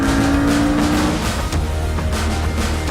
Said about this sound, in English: the sound is more intense, sportier, racier, and the backfire is also a lot more noticeable